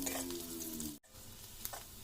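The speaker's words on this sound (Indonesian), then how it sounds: "Mbak Ica langsung goreng bawang besarnya tadi ya sampai wangi." Onions fry in hot oil with a steady sizzle and some stirring. A brief cut breaks the sound partway through, and the frying carries on close and fairly loud.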